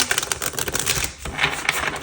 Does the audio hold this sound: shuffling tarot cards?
yes